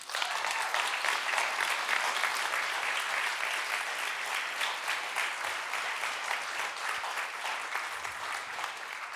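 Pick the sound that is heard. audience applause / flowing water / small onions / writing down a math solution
audience applause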